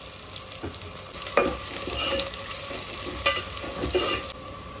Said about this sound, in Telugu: ఉల్లిగడ్డలు వేసినాక వేగాలి.